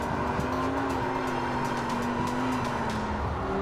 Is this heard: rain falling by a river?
no